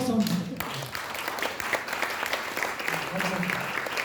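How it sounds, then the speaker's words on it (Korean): An audience at a Korean national founding anniversary ceremony and patriotic award event applauds, a dense sustained clapping that runs the full length while a voice talks over it. "다시 한번 여러분 큰 박수 한번 부탁드립니다"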